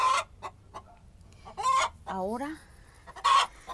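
A hen clucks in a short, uneven series of loud, close calls, with a few brief crowing-like notes mixed in and a voice speaking briefly.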